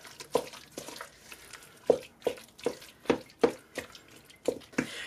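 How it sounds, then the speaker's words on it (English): A wooden spoon mixes and chops an egg mixture in a bowl, giving soft wet clicks and taps at an uneven rhythm, close and fairly quiet, with no talking. "I'll take my wooden spoon and just chop it up just a little bit better"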